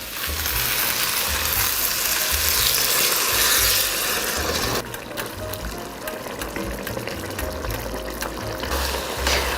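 White wine bubbling and sizzling as it reduces in a pot of creamy mushroom stew with bacon, a steady loud hiss with occasional stirring clicks, dropping slightly in level partway through.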